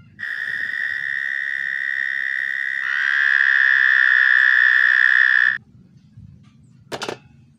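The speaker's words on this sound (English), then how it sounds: "Guys, frog." A frog gives a long, steady buzzing trill that runs unbroken for several seconds, then stops abruptly, followed by a brief faint click.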